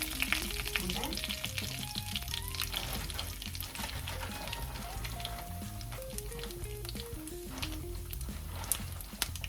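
Dried red chillies, dropped whole or torn, crackle and sizzle steadily in hot oil in a pan while tempering for tamarind rice, a close, continuous frying hiss with some stirring and no talking.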